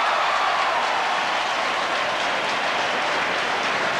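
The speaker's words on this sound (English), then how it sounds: "And don't the crowd at the Wacker love that" A stadium crowd roars and cheers steadily after the West Coast Eagles captain kicks a long, high goal at an Australian football match at the WACA in 1987, a broad, dense wash of noise that holds throughout.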